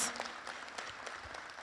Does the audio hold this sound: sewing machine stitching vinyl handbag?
no